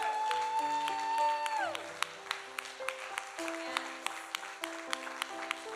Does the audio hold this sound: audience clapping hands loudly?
yes